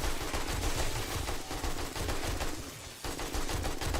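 AK rifle fire in the survival game 7 Days to Die: a dense, continuous burst of rapid automatic shots, loud and close, dipping briefly before the firing resumes.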